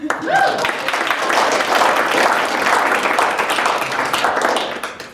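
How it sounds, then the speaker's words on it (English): Audience applause from a crowd at a school arts capstone event, steady dense clapping that fills the whole stretch at a constant, fairly loud level with no talk over it. "You can clap for them."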